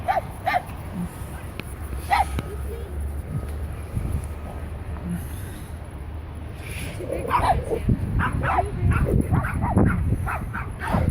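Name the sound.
dogs barking and growling at dog park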